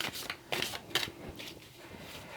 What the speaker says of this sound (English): So I'm just going to shuffle these cards now, using the Druidcraft Tarot.